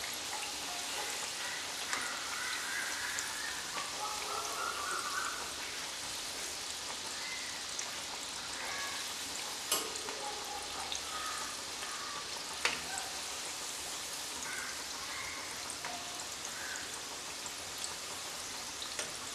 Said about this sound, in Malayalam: രണ്ട് സൈഡ് നല്ലതുപോലെ ഫ്രൈ ആക്കി എടുക്കുക.